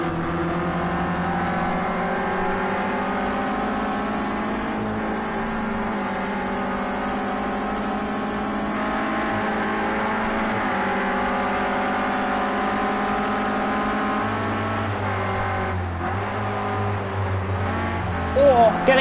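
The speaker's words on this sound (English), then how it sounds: "the sound of these beautiful Renault Clio Cups" Renault Clio Cup race cars at Brands Hatch in the racing game Project Cars 2, heard as a steady droning engine note that shifts pitch as the cars rev and shift, continuous for the whole stretch.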